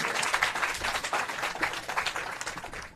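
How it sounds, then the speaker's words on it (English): Audience applause at a social housing handover ceremony in St Catherine, Jamaica, a steady, fairly close burst of many hands clapping without a break. "Please clap him again, ladies and gentlemen."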